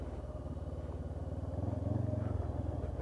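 A Honda CB500X motorcycle idles and putters slowly over off-road ground, a steady low engine thrum with a brief swell as it picks up slightly, close by.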